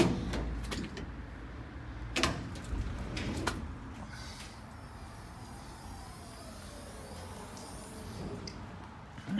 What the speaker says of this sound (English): let's go ahead and open up the trailer